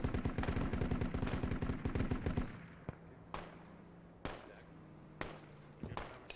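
Automatic gunfire in Project Reality rattles in a fast, loud burst through a wall, then gives way to several single heavy shots spaced about a second apart over a low hum.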